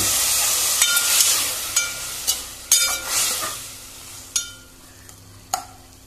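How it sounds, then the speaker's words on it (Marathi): Hot water poured into a pan of frying Goan-style cauliflower bhaji gives a broad hiss and sizzle, broken by several sharp clinks and scrapes of stirring, with no talk. "आतां हातून इल्लें गरम उदक घालता"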